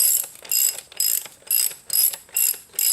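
A ratchet tightens the axle nut on a Honda CRF110F dirt bike in seven rhythmic bursts of close, crisp clicking, each stroke separated by a short pause.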